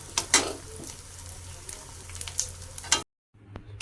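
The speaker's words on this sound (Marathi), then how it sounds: "आता मी डिंक फ्राय करून घेते म्हणजे तळून घेते आहे डिंक" Edible gum (dink) puffing as it fries in hot ghee for laddoos, giving a crackling sizzle with sharp pops and bursts of stirring, close and fairly loud, then an abrupt cut and brief quieter frying.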